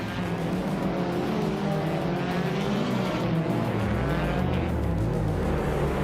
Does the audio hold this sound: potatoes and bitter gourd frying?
no